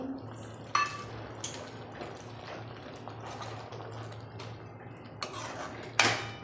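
Tomatoes tipped into a pot of simmering bottle gourd and chana dal, with sharp spoon-on-steel clinks and scrapes at scattered moments over a low steady hum.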